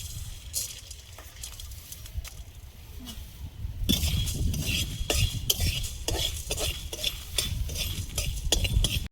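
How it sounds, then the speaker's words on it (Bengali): Coriander seeds and black peppercorns dry-roasting in a pan, with steady clinking and scraping of a stirring utensil that grows louder and busier partway through, a faint dry crackle underneath. "ধনেটা ভাজা হতে একটু দেরি হয়, তাই ধনেটা আগে দিয়ে দেবো।"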